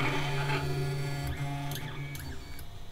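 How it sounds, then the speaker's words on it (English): Stepper motors of a Malyan M200 Monoprice Mini 3D printer whine and buzz loudly as the print head homes, with a steady mechanical drone broken by a few quick pitch sweeps and clicks. "It is quite loud. It's not very silent, the motors."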